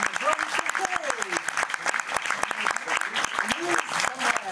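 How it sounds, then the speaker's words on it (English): Audience applause for the Eddie the Eagle film team, with director Dexter Fletcher and Hugh Jackman among them: dense, steady clapping from a crowd, with a few whoops or voices rising over it throughout. "Donc, applaudissez bien fort"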